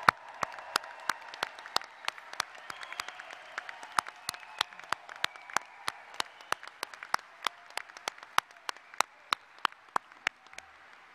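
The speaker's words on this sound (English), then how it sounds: "Please give a congratulatory round of applause to the College of Arts and Sciences Class of" Sparse clapping for a graduating College of Arts and Sciences class at a pre-commencement ceremony: distinct, evenly spaced sharp claps over a faint, steady background murmur.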